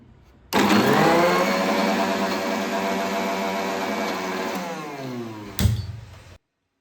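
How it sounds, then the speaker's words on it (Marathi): A kitchen mixer grinder whirs loudly while blending tomato gravy for a garlic-and-pea curry, starting abruptly, running steadily for about six seconds with a slight drop in pitch, then a brief clunk before it cuts off. "भाजीसाठी टोमॅटोची ग्रेव्ही ग्राइंड करून घेऊया"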